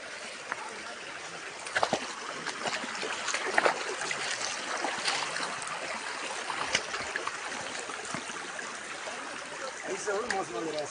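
A forest stream on the way to a waterfall flows with a steady, moderately loud trickling and gurgling rush, with people talking faintly over it.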